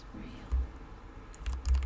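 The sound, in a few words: typing on computer keyboard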